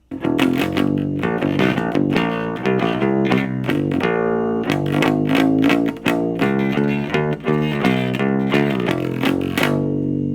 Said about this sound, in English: does this short scale bass sound better?